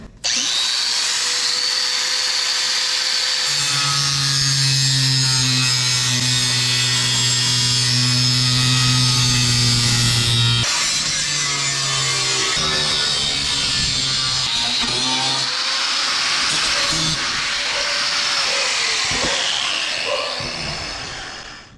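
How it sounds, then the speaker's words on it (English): A 4.5-inch cutter grinds straight across a marked line during a 6.0 LS engine rebuild, a loud continuous whine with steady high tones that dips and rises as the blade bites, running alone for about twenty seconds. "just gonna take a 4 1/2 inch cutter and cut it straight across my line"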